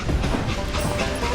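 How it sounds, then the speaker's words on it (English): A train in Call of Juarez: Gunslinger rolls along with a dense, loud rumble and rattling clatter of railcars, steady throughout the short stretch. "It was then that Jesse detached the express car from the rest of the damn train."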